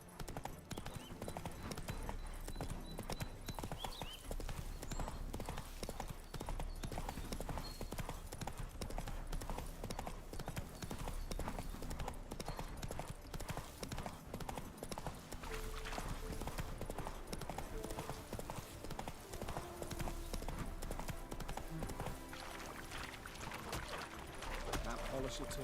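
The horse Roach gallops in The Witcher 3, with continuous rhythmic hoofbeats pounding loudly throughout, a brief whinny, and a voice talking over them.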